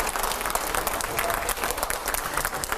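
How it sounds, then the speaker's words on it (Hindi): A television studio audience applauds a guest arriving on set, a loud, sustained burst of many hands clapping with crowd noise mixed in throughout. "जोरदार तालियों से स्वागत करिए"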